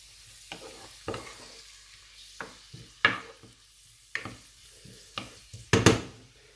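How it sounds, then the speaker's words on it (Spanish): Onion and chopped tomato fry in a pan with a soft sizzle, broken by several sharp scraping stirs of a utensil at uneven intervals, close by and with no talking. "Que se sofría también otros 2 o 3 minutos."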